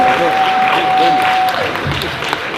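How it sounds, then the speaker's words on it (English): An audience at a university panel discussion gives the panelists a round of applause, a dense, loud wash of clapping that tapers slightly toward the end, with a steady tone and some voices underneath. "Can we give them another round of applause?"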